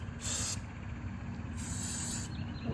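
A spray can gives two short hissing puffs onto a push mower, each lasting under a second, close and fairly soft over faint background noise.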